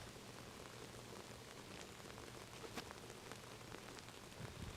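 Steady rain patters across a disc golf course in Turku, a dense hiss of drops on the ground and foliage with scattered individual splats, continuous and fairly faint.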